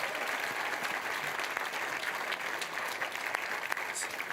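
Steady applause from a large audience at an international science communication contest, a dense, unbroken clatter of many hands clapping close by that fills the whole stretch without pauses.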